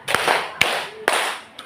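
Three sharp, close hand claps at an even, unhurried pace in a classroom ice-breaking clapping game, each clap followed by a short room echo, with a faint fourth tap at the end.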